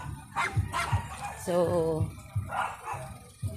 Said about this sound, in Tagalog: Ayan, andyan yung aso nila. Ayan guys, ang aso. Tumatahol na.